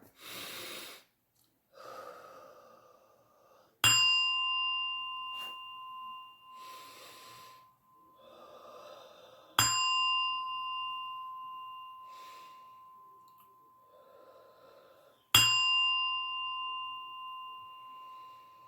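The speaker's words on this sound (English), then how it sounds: "I will ring the singing bowl 3 times" Singing bowl struck three times, each a clear ringing tone that slowly fades, spaced several seconds apart, with soft breathing and quiet sounds between the strikes.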